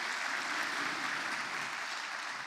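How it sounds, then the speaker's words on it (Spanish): A church congregation at a Spanish-language Pentecost sermon breaks into sustained, dense applause, a steady wash of clapping that holds evenly throughout at a moderate, slightly distant level. "Denle un aplauso al Espíritu Santo."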